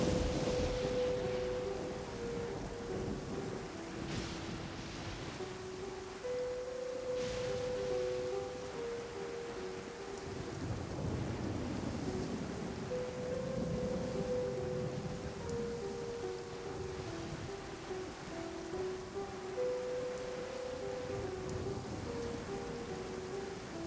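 Steady rain hisses in the Genshin Impact video game, with low rumbling swells suggesting distant thunder and a soft melodic tone drifting over the constant wash, alone without speech.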